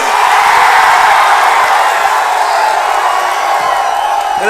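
Crowd at an AIADMK election rally roaring and cheering in a loud, continuous mass of voices, with occasional whoops rising above the sustained noise.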